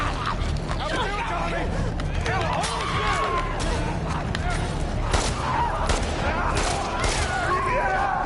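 Gunfire in The Last of Us Part II, rapid overlapping shots and impacts from a frantic firefight against infected, running continuously under excited, overlapping voices.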